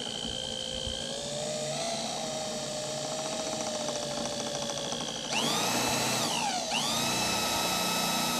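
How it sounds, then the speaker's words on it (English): A power drill with a 1/2-inch bit drills a hole through the center of trim pieces for an ice fishing sled, its motor whining steadily before the pitch drops sharply under load, recovers and dips again. "I'm going to take a 1/2-inch drill bit and drill a hole directly down through the center of these."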